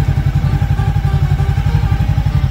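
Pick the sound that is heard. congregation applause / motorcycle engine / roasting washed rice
motorcycle engine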